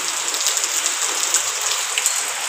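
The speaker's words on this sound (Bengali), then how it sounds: "প্রায় এক সপ্তাহ থেকে বৃষ্টি হচ্ছে" Steady rain falls during a week-long spell of wet weather, a close, even hiss of drops with faint pattering on surfaces and no talking.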